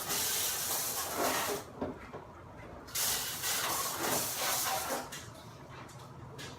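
Dishwasher spray arms shoot water against the dishes inside the machine in loud hissing bursts that cut out briefly and resume, the spraying returning in uneven surges.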